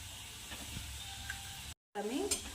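Red chili powder and turmeric sizzle in hot oil in a pan for a guar bean curry. The sizzle is steady and moderate, with faint stirring scrapes, and it cuts out briefly before resuming.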